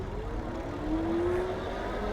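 A Kingbull Literider 2.0 electric bike pulling away on its twist throttle, a smooth rising motor whine climbing in pitch over steady wind and road rumble.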